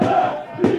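Home supporters of the Budafoki football team roar and chant in a brief, sustained burst of crowd noise that swells again near the end.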